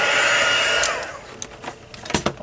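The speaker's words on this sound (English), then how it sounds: "I love heat embossing." A heat gun blows loud, steady air while melting embossing powder for card making, then shuts off, leaving faint taps and handling noises close by.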